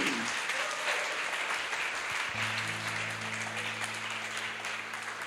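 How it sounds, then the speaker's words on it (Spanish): Congregation applauding during a Spanish-language church service, a steady wash of clapping throughout, with a low sustained organ or keyboard chord entering partway through. "Vamos a darle un fuerte aplauso al Señor"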